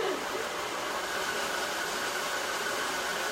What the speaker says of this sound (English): then I just hit it with the blow dryer